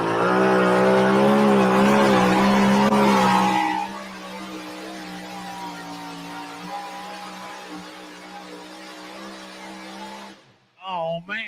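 A Pro Stock drag car with a Chevrolet body and a Minor Brothers Racing Hemi launches at a Wisner, Nebraska drag strip. A loud, rising engine wail runs for a few seconds, then drops to a steady distant drone.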